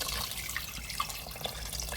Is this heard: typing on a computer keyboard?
no